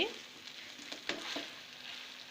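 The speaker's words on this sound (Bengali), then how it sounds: "এখন আমি খুবই ভালোভাবে এভাবে করে মিশিয়ে নিচ্ছি।" Rice stirred into sugar syrup in a pot for jorda polao, giving quiet scraping and stirring strokes over a soft steady sizzle, close up and fairly faint.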